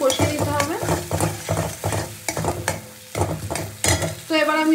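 A spice masala with cumin powder fries and is stirred in a pan, giving repeated loud scraping strokes over a constant sizzle, with short pauses between strokes.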